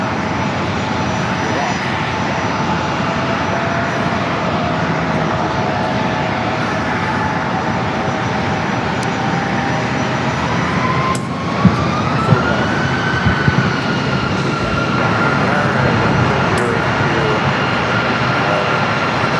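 An Alaska Horizon Embraer jet departs San Diego airport with a sustained jet engine roar and a rising whine. Its pitch climbs partway through, and a few sharp knocks and voices come through near the end.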